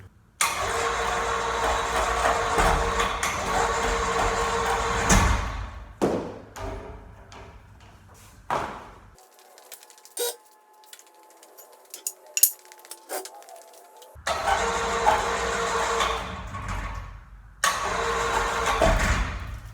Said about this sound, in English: I hope this winch is attached to the ceiling well enough, because this frame's pretty heavy